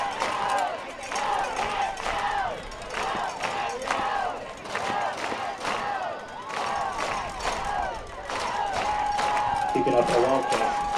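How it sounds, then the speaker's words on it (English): A lively home crowd at a Calallen versus Miller high school football game cheers and chants in steady waves of rhythmic shouting, with a broadcaster talking over the noise. "this Calallen crowd is lively right now"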